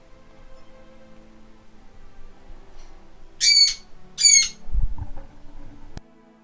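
Birds squawk near a front gate: two sharp, loud squawks about a second apart, followed by a low thump and faint rustling, with no talk.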